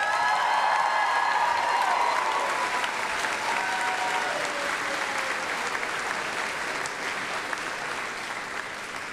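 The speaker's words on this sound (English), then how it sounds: "I ask you to please join me in offering the faculty staff of North Idaho College assembled here today a round of applause" An audience at a North Idaho College commencement gives a sustained round of applause, dense and even clapping from a large crowd that slowly fades over several seconds.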